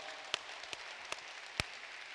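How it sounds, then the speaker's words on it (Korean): A church congregation applauding in thanks, a soft, distant wash of many hands clapping with a few sharper individual claps standing out. "우리 하나님께 감사의 박수 한번 하자"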